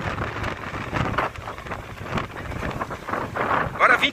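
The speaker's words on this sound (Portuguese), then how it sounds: "esse vento forte que chegou aqui em Itanhaém" Strong gusting wind on a beach in Itanhaém, Brazil, buffeting the microphone with loud, uneven rushes and roar, swelling and easing in waves throughout.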